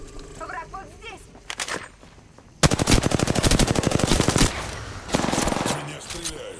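Automatic gunfire from the video game Apex Legends rattles in long rapid bursts, loud and close, with a brief lull before a final burst, while a character voice speaks near the start.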